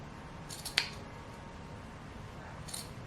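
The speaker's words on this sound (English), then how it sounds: "So just snip it a little bit like so," A single crisp snip of scissors cutting into a fabric corner while sewing a dress, close and brief, against quiet room tone.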